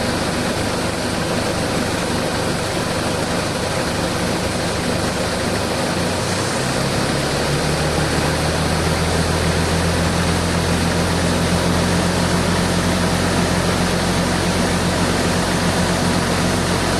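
An engine roars continuously and loudly during an air conditioner repair on a rocket-nosed bus, the pitch rising as it is revved up about midway and then held at a steady high drone.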